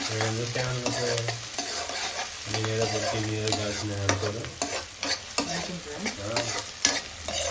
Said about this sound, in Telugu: ఆనియన్స్ అయితే ఫ్రై అవుతూనే ఉంటాయి